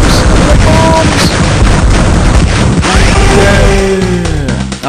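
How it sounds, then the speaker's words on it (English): Smart bombs blowing up in the Crash Bandicoot video game, a loud, dense run of booming blasts and crashing debris that fills the whole stretch, with tonal game effects sweeping through near the end. "The bombs!"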